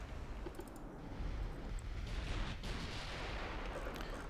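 Heavy naval gunfire from the battleship Alexander in the naval warfare game Ultimate Admiral: Dreadnoughts: a steady, low, rumbling barrage of booms, fairly faint and continuous with no talking.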